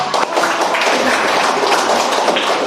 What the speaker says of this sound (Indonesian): Oke, berikan aplaus dulu untuk.